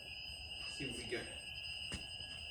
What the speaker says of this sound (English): It's beeping a little bit more.